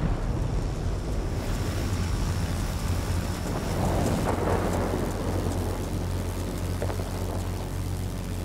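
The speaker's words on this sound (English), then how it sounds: "Be advised, a line of thunderstorms is approaching." Thunderstorm in the World of Warplanes flight game: steady heavy rain hiss with a deep rolling rumble of thunder swelling near the middle, continuous and loud throughout with no voices.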